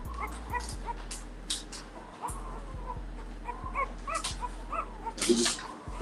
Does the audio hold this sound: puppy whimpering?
yes